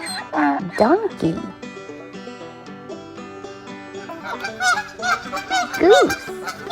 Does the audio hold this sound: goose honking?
yes